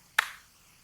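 A single sharp, close clap from children doing the 'tepuk 1' clapping pattern in a classroom, one crisp hit that decays quickly into quiet.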